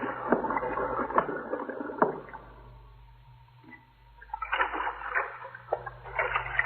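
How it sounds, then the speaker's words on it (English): Underwater air bubbles rise in a radio drama effect, heard as bursts of splashy, gurgling water that fade to a low hum and then return more strongly. "Them bubbles. Them air bubbles."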